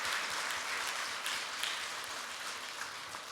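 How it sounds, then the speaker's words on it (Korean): Sustained applause from a church congregation at a Sunday worship service, a dense wash of many hands clapping steadily at moderate distance throughout, with no voices rising above it. "우리 하나님께 영광의 박수 올려드립니다"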